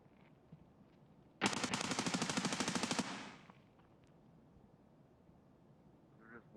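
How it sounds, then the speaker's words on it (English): Rapid burst of automatic gunfire in an Escape from Tarkov-style shooter game, one loud sustained string of about a dozen quick shots lasting under two seconds, then quiet. "They're just warning shots, buddy. Warning shots."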